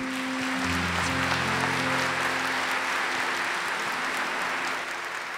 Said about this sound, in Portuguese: Aplaudamos a palavra de Deus.